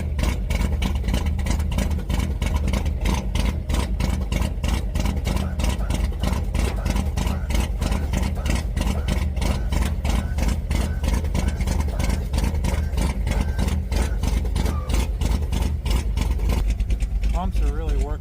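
A Chevy engine idles after a cold start with its hydraulic pumps straining on thick old oil, a loud, fast, even pulsing throb that runs throughout at close range.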